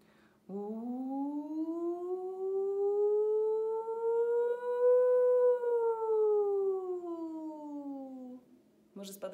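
A single human voice mimics an air raid siren in one long wail that rises slowly, holds, and falls again over about eight seconds, loud and close over a faint steady hum.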